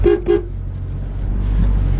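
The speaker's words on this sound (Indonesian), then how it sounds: "kita klakson dulu." Two short, loud honks of a car horn close by on an off-road climb, followed by the steady rumble of an Isuzu vehicle.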